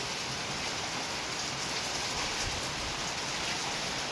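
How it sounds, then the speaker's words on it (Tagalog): Heavy rain pours steadily and loudly on a house during plastering work, a dense unbroken hiss of drops on surfaces with no voices. "At walang tigil na naman yung ulan"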